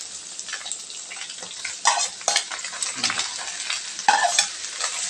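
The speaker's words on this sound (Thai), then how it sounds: "แล้วก็ตำลึงของเราครับ ใส่ลงไปผัดตะไคร้ได้เลยครับ" Ivy gourd leaves stir-fried with lemongrass and seasoning sauce in a pan for an egg dish, a steady close sizzle broken by scraping spatula strokes and louder hissing surges when the leaves are tossed.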